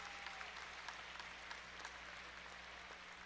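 Hockey fans in a junior league arena applaud steadily from a distance after an injured goalie reaches the bench, a soft, even wash of clapping with no voices over it.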